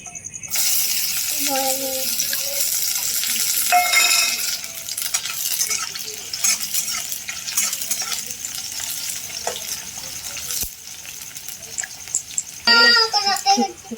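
Sliced onion hits hot oil in a pan with bay leaf for a chicken ghugni, setting off a loud, close, continuous sizzle with stirring scrapes and a few brief clatters, while a voice talks intermittently over it.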